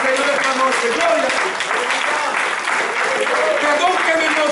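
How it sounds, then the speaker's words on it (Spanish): Congregation applauding in church during an evening service, a dense, continuous wash of clapping with voices calling out over it throughout. "a su nombre le damos un aplauso al Señor esta noche"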